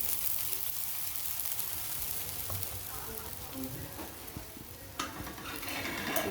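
Oil sizzles in a pan as dahi dhapate flatbread fries, a dense steady hiss with faint scattered clinks and a brief clatter near the end, heard close.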